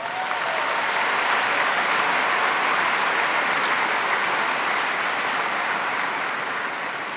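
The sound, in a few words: applause at a high school graduation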